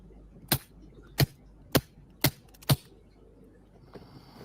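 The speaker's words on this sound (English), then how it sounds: "when I shoot the pellet gun" Five sharp pellet gun shots fired in a home setting, evenly spaced about half a second apart, each a loud crisp crack standing alone against a quiet background, followed by faint rustling.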